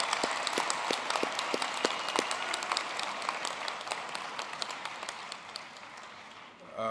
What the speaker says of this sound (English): Let's have another round of applause for the graduates.